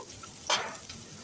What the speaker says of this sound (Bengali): পেঁয়াজটাকে হালকা নেড়ে চেড়ে লালচে কালার করে ভেজে নেব